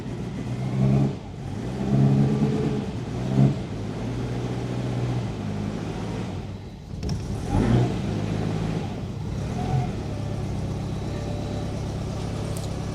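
A Citroën GSA car engine running unevenly, a mid-pitched idle with a few rises and dips like brief revs, close by and without talk.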